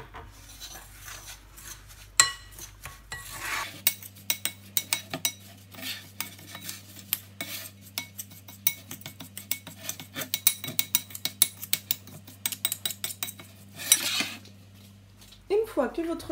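Crushed Kinder cake being mixed with melted butter in a bowl, with a rapid run of close spoon scrapes and clinks against the bowl over a low background hum that drops out early.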